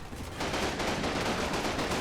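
In the Normandy wargame Combat Mission: Battle for Normandy, soldiers fire a dense, continuous volley of rifle and machine-gun shots at a half-track. The crackle is fairly distant and steady.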